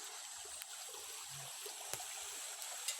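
A shallow creek trickles and babbles faintly in a steady outdoor wash, with a few soft splashes and clicks, no voices present.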